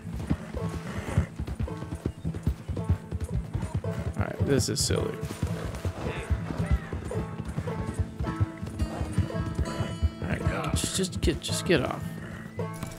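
A horse gallops with steady hoofbeats and neighs loudly in Red Dead Redemption 2, a mad sprint it won't stop, while someone talks over it and game music plays beneath.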